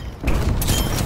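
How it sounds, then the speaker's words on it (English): A flashbang grenade goes off in a tactical shooter game, a single sudden low boom followed by a short rush of noisy crackle and ringing, loud and close. "Throwing flashbang."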